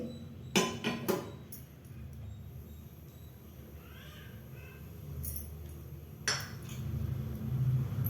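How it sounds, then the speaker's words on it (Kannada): A metal pan set down on a gas stove in a home kitchen gives a couple of sharp clanks early on and another clatter later, over low room noise with no talking. "ಸ್ಟವ್ ಹಚ್ಚಿ ಇವತ್ತೊಂದು ಪ್ಯಾನ್ ಇಡ್ತೀನಿ ನೋಡಿ"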